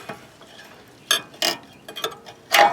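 A lug nut wrench ratchets in short, sharp bursts while brake pads come off a 2002 Nissan Maxima, several separate clicking spurts spaced over a quiet background, close by.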